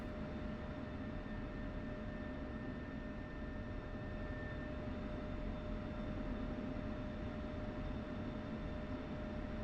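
Steady jet engine roar from aircraft taxiing toward the runway in the DCS flight simulator, a constant broadband rumble with faint tonal whines, unbroken and alone throughout.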